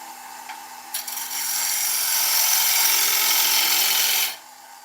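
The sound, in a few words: wood lathe turning tenon on oak bowl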